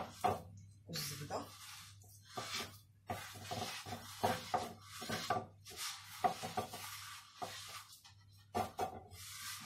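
Butter and sugar are being mixed by hand in a bowl, giving soft, uneven scraping and rubbing strokes with occasional light knocks of the utensil against the bowl, close and quiet.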